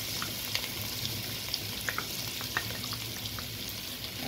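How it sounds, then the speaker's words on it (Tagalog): Chopped onion sizzling in melting butter in a hot pan, a steady close frying hiss with small pops and crackles throughout, no voices. "Isabay na natin yung onion habang pinapatunaw natin yung butter."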